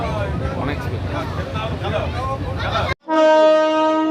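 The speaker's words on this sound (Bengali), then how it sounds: "এই যে ট্রেন চলে যাচ্ছে," A passenger train rumbles past at close range near a rural picnic park, a steady roaring clatter that breaks off, then a loud sustained multi-tone horn blast rings out alone.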